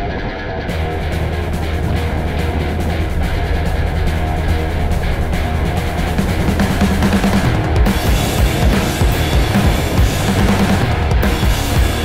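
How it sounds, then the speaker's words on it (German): Strong mountain wind on an exposed ridge toward the Seespitz at about 2,100 m in -10°C cold, a loud, continuous broadband roar that gusts and surges for the whole stretch with no voices. "Richtung Seespitz nimmt der Wind dann plötzlich extrem zu."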